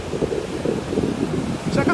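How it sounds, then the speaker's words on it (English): Wind and surf at an ocean shore roll together as a steady, close rumble, with gusts buffeting the microphone and a brief brighter splash near the end. "Check out these waves"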